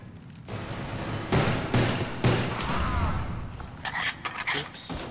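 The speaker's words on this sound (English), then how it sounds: "Accidentally shot that zombie in the head." Gunfire from Call of Duty: Black Ops Zombies on the Ascension map, several sharp loud shots in quick succession with clatter and scraping in between, played close up with no voices over it.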